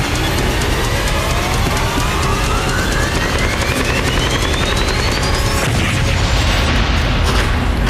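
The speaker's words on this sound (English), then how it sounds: "With their cover gone, Kenny and Randy suddenly find themselves more exposed to enemy fire." Combat gunfire and explosions during the Black Hawk Down battle, a loud dense continuous roar of sustained bursts and rumbling blasts with a rising whine passing through, no speech.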